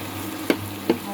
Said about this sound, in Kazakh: Пекинский капустамызды азырақ қуырып аламыз.